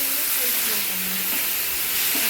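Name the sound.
tomato frying in a pan for egg bhurji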